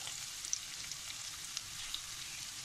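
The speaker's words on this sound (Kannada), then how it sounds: "ಎಲ್ಲ ಸೇರಿ ಒಂದ್ಸತಿ ಫ್ರೈ ಮಾಡ್ಕೊಳ್ಳೋಣ" Green chillies frying in a pan for ridge gourd chutney, a steady soft hiss with a few sharp crackles and pops, close and uninterrupted by speech.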